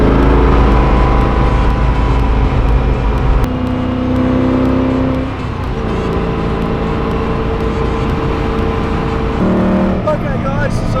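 Koenigsegg CCX supercar engine heard from inside while driving, a loud deep droning roar that shifts pitch with gear changes and throttle, continuous and close.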